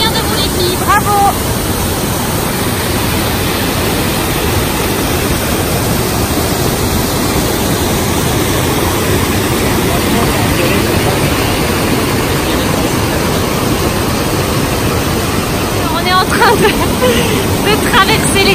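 Waterfall cascades in Rocky Mountain National Park rush as a steady, loud, broadband roar of falling water that fills the scene without pause, with faint voices now and then beneath it.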